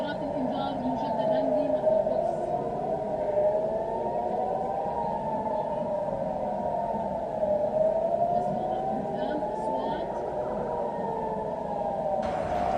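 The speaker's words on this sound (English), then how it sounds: "We're definitely hearing rocket sirens." Distant rocket warning sirens wail steadily, their tone slowly rising and falling in long sweeps over a low background hum.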